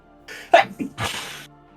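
A single sharp sneeze bursts out at the table during a tabletop roleplaying game session, with a few muffled vocal sounds around it and no clear speech.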